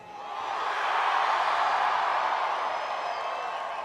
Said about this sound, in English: We have tonight a large crowd and a raucous crowd.